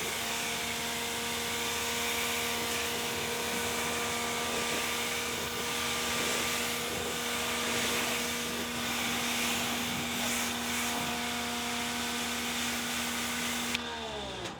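Ryobi 1.8 GPM automotive high-flow pressure washer spraying through a 25-degree tip: a steady, loud, continuous motor whine and water hiss, unbroken for the whole stretch and cutting off abruptly at the end.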